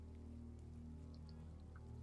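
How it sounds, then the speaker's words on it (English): Faint, steady rain in the video game Cyberpunk 2077 patters softly with scattered droplets over a low background hum. "It's raining! Actual rain!"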